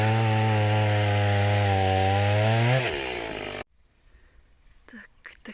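A chainsaw drones steadily close by, its engine note dipping as it cuts firewood outdoors in winter, then cutting off abruptly, leaving faint outdoor sounds.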